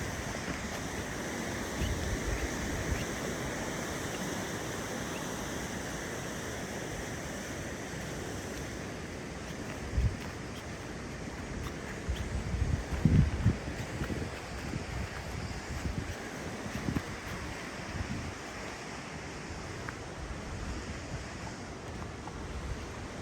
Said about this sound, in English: You got the river doing its thing, and then you got this trail system through Deschutes National Forest.